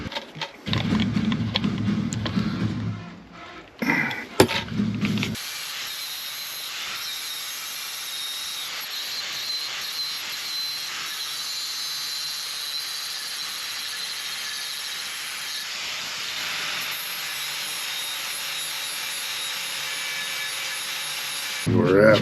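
Sandpaper of 240 grit rubs steadily across an aluminum frame, a continuous dry scratchy hiss that runs for most of the stretch after a few brief louder handling noises at the start.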